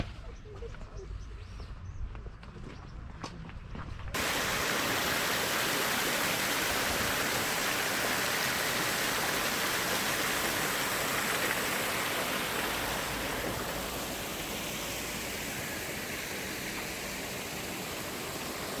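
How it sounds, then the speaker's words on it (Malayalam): A waterfall at Al Rafisah Dam in Khor Fakkan roars as a loud, steady broadband rush that sets in abruptly after a few seconds of quieter outdoor sound and then continues unbroken, easing slightly toward the end. "ഇനി കുറച്ച് വെള്ളച്ചാട്ടമൊക്കെ ഉള്ള ഏരിയ ഉണ്ട്"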